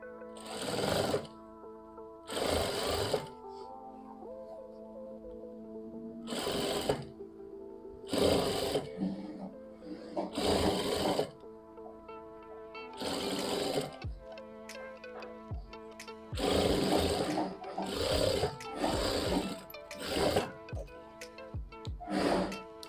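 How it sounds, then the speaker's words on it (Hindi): A tailor's sewing machine stitches a shirt collar in several bursts of rapid mechanical running, each a few seconds long, separated by short pauses with faint ticking and handling noises between them. "इस तरीके से अंदर करते हुए ऐसे इस सिलाई को पूरा करना है"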